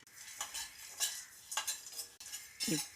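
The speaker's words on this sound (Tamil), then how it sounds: "அப்புறம் சீரகம், வெள்ளை எள்ளு, வெந்தயம் போட்டு வறுத்துக்கலாம். இந்த வேர்க்கடலையும் போட்டு வறுத்துக்கங்க." Cumin, white sesame, fenugreek and peanuts are dry roasted in a pan, heard as a few close, soft scraping stirs and light clinks of a spoon against metal, quiet and with no talk.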